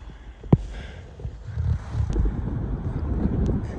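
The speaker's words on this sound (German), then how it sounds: "der Wind weht auch komplett in meine Richtung" A headwind buffets the microphone while cycling through the Andes, producing a low rumbling roar that swells and stays loud after a sharp knock at the start.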